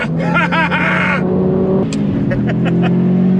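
A Subaru BRZ accelerates hard in pursuit of a Lotus at a supercar meet, its engine note steady and close throughout, with a voice talking over the first second.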